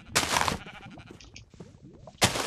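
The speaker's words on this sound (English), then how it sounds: "I'm trying to kill a sheep." Sheep bleat in the game Minecraft amid bursts of loud noisy game sound at the start and end, with scattered clicks and effects between, close and busy.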